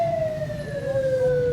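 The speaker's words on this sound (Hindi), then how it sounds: "एम्बुलेंस निकलवाई जा रही है ताकि जी उसे किसी किस्म की रुकावट जो है वो दरपेश ना है।" Ambulance siren wailing in a steady falling tone, loud and close, over a rumble of road traffic and engines in a street setting.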